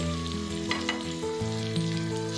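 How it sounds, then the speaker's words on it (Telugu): Kashmiri chilli powder, cumin and spice masala sizzle as they fry in a pan, with a steady hiss and a few soft stirring scrapes, while tonal hum and music run underneath. "బాగా కలుపుకొని బాగా ఈ మసాలాలన్నీ బాగా ఉడికేటట్లు బాగా ఫ్రై చేద్దామండి"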